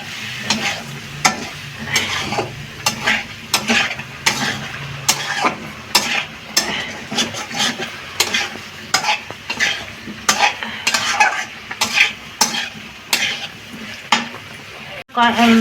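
Spices sautéing in a pan as small splashes of hot water are added: a sizzling bed broken by frequent sharp scrapes and clinks of a spoon against the metal, with a loud splash at the end.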